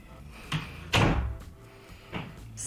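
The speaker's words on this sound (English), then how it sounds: "Close the door." Indoor room door being closed at home, a soft bump then a louder thud as it shuts, followed by a lighter knock, quiet and close with no talk.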